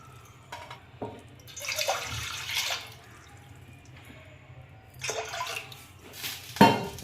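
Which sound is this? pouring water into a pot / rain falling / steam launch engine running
pouring water into a pot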